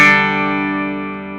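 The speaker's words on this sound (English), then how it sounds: "So here's some clean tones on the bridge pickup." An electric guitar played clean on the bridge pickup rings out as a single bright sustained chord that slowly decays, alone with no talking.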